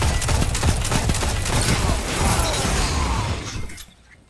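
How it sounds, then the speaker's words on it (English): A rocket launcher firing and exploding in the multiplayer shooter game Destiny 2, a loud dense burst of blasts and crackling debris that fades out at the end. "Yep, a rocket launcher."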